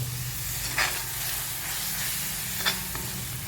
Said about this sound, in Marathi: भाज्या या परतायच्या असतात